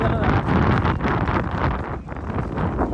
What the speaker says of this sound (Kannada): ಗಾಳಿ ಫುಲ್